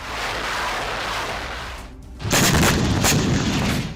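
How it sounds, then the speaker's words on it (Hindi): A Grad multiple launch rocket system fires in a war zone, a sustained loud roar followed by a sudden powerful blast and a run of sharp booming cracks. "रूसी सशस्त्र बलों के दक्षिणी समूह ने ग्रैड मल्टीपल लॉन्च रॉकेट सिस्टम से ताबड़तोड़ हमला किया।"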